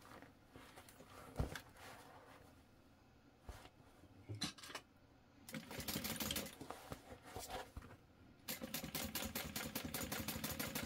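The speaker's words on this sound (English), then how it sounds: "this is a decent chunk of stuff to stitch through, but we're gonna top stitch it" Sewing machine top stitching through the thick layered seams of a fabric tote bag, a close steady mechanical whir that starts and stops in bursts, running fast and continuous for the last few seconds.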